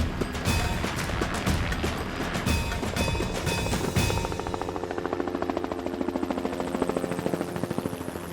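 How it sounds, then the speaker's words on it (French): Helicopters departing over mountainous terrain in New Caledonia or Réunion, with heavy rotor chop and engine whine at first, then a rhythmic, steady blade thumping that continues as the aircraft move off. "Une fois les hélicoptères repartis"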